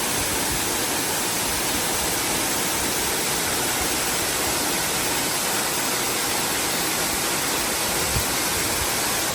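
A waterfall on a hike in Colombia roars as a steady, dense broadband rush, loud and unbroken throughout, with no voices over it.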